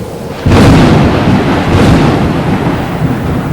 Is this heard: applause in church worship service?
no